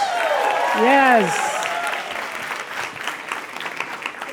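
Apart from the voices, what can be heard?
audience applause for Abner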